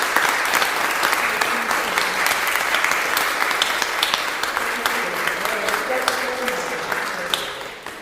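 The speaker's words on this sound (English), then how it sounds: "a big loud clap" Loud, dense applause from an audience after a talk, sustained clapping filling the whole stretch and tapering slightly at the end, with some voice-like murmur mixed in.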